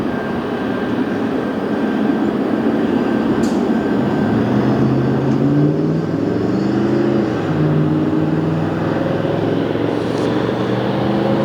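A British Airways jet airliner on runway 24 left at LAX, a steady roar of engines heard from a distance with a rising whine as it spools up, continuous and loud, with no talking.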